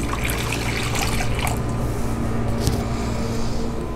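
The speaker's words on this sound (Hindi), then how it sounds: "उसके लिए हम 1 कप गर्म पानी डालेंगे।" Hot water is poured steadily into a bowl while making kachori dough, a continuous close trickling and splashing that stays even throughout, with no talking.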